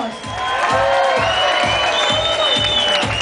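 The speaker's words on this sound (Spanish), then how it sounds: "Un aplauso para vosotros." A carnival crowd at a night event in Palma cheers and whoops over clapping, voices rising in excited shouts, with a rhythmic low thump of music pulsing underneath.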